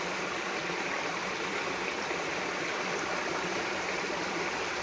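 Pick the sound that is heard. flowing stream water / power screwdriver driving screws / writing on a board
flowing stream water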